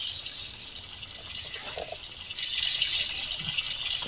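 Steady hiss of running shower water in the Roblox game Brookhaven, a constant bright spray that swells slightly louder partway through, heard alone without talk.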